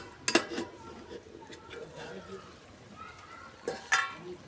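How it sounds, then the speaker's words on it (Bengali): Metal pot lid lifted from a pot of mushroom curry cooking on the stove, giving two short clanks separated by a few seconds, with soft sizzling and kitchen sounds between. "ঢাকনাটা তুলে নেব।"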